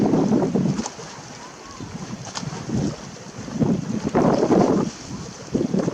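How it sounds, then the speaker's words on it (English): Gusty wind buffets the microphone outdoors by the water in a park, coming in loud, rumbling blasts that rise and fall in uneven waves. "Oh, don't blow wind, stop. Oh, the wind's changing a little bit on me here."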